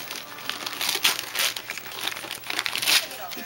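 Christmas gift wrapping paper crinkles and tears as a present is unwrapped at close range, a continuous rustling with sharper rips, while people talk in the background.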